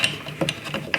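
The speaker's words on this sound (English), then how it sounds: "you can put a ratchet or a wrench on it, or a rattle gun" A ratchet on a bolt on a Monster Moto 80 minibike engine, a quick run of sharp metallic clicks at close range with nothing else underneath.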